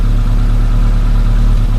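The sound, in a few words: Suzuki Samurai engine idling with HHO system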